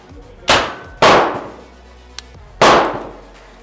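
A BinTac semi-auto big bore airgun fires three loud, close shots, each a sharp crack with a ringing metallic tail. Between shots comes a small click.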